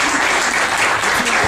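A seated audience breaks into loud, dense applause, a close wash of many hands clapping at once that holds steady for the whole moment.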